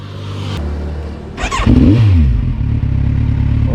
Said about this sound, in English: Okay, my first start on a 1 liter class bike.